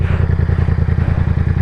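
A Yamaha MT-07 with its 689cc crossplane parallel-twin engine runs close by, a loud, deep, lumpy idle with an uneven pulsing beat and mechanical clatter, heard alone.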